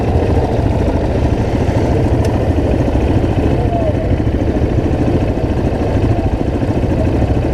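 Several dirt bikes idle together, a KTM 1190 Adventure R, a Suzuki DRZ 400 and a Honda CRF 250L, making a loud, steady, rumbling drone that holds evenly throughout.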